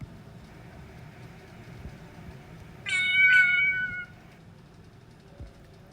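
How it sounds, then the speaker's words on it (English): A single cat meows once, a clear, fairly close cry lasting about a second over faint low background noise. "the cat says,"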